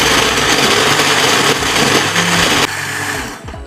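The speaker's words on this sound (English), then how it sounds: "So you want to blend it and make sure that you've gotten all the coconut." Coconut pieces and water whirring loudly in a kitchen blender, a steady dense motor roar that drops slightly in pitch partway through before winding down near the end; no voices.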